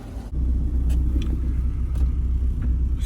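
A 2001 Mitsubishi Mirage on a test drive after reassembly, its engine and road noise forming a loud, steady low rumble from inside the car, with a few faint knocks over the drone.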